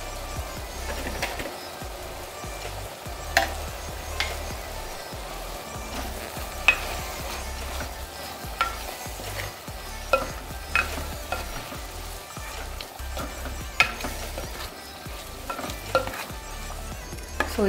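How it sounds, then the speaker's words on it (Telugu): Onions and tomatoes fry in a pan with salt, a steady close sizzle running throughout, broken by scraping stirs and light clicks of a spoon against the pan. "ఆనియన్స్ కొంచెం ట్రాన్స్పరెంట్ కలర్లో వచ్చి అండ్ టొమాటోస్ కొంచెం కుక్ అయ్యే వరకు ఫ్రై చేసుకోవాలి వీటిని"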